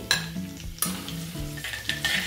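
Garlic hits hot oil with popping cumin and mustard seeds in a tempering for okra, giving a crackling sizzle broken by a few metal stirring clanks.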